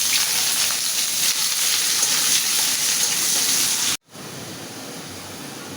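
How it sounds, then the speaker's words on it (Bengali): Onion and garlic with dried chili, cumin and a bay leaf sizzling steadily in hot oil in a home kitchen, a loud, even hiss that cuts out abruptly near the end and then resumes more quietly. "পেঁয়াজ রসুন কিন্তু লাল লাল করে ভেজে নিছি"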